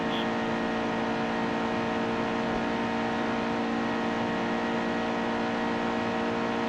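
A race car engine in NASCAR Heat 2 drones at full speed as a steady, even, loud tone with no break or rise throughout.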